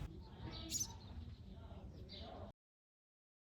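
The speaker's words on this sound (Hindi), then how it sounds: "ये चिड़िया अब शहरों से तो लुप्त ही हो गई हैं।" A small bird gives a brief, faint chirp outdoors in Kutch on the way to Kalo Dungar, heard over a low rumble and murmuring voices before the sound cuts out.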